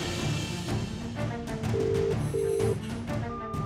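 A telephone rings with two clear electronic tones over a background of dramatic music, the rings close and distinct.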